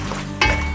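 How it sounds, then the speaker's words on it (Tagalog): Pumpkin seeds and vinegar frying in a pan while being stirred, giving a steady close sizzle and then a sharper scraping burst partway through. "Stir constantly like this for about maybe 30 seconds."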